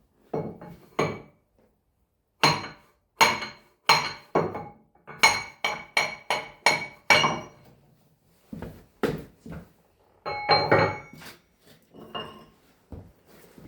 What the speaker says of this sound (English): I'm just spending a bit of time knocking the top off this key slightly.